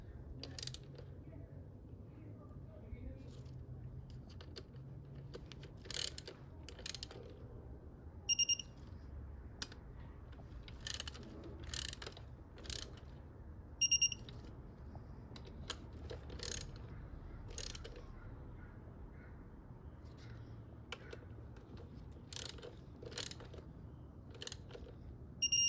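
A torque wrench tightens bolts on a Mercedes CLS 55 AMG engine, giving scattered quiet ratcheting clicks in short bursts against a faint, near-silent workshop background.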